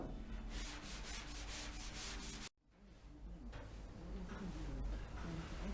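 Sandpaper rubbing over the bodywork of a Triumph Vitesse under restoration, a steady, close, loud abrasive scrub in repeated strokes, broken by a brief pause midway before resuming.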